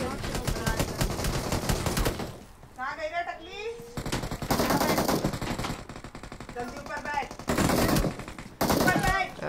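Bursts of gunfire from the battle royale game BGMI, several loud rapid-fire volleys spaced through the stretch, mixed with frantic player voices talking over them.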